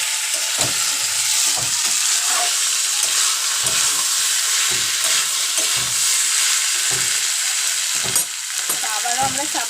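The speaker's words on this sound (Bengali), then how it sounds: "একবার এটাকে আমরা কষিয়ে নেব, না হলে তলায় লেগে যাবে।" Chicken curry with potatoes sizzling steadily in oil in a pan, with repeated stirring scrapes throughout.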